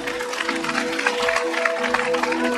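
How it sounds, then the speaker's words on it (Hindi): A church congregation claps together in thanks during a Christmas sermon, a dense, steady wash of hand claps with crowd murmur and a sustained musical tone running underneath throughout. "प्रभु के लिए ताली बजाकर धन्यवाद दे सकते हैं।"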